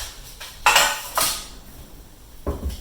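Two 9-inch metal baking pans are handled on a counter, giving a few sharp clanks and rattles with short gaps between them and no voices.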